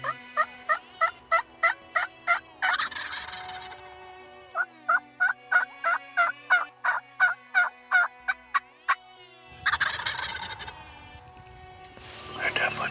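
Wild turkeys gobble in a long rapid series of sharp, repeated calls, fairly close and loud, broken by bursts of rustling and noise in between.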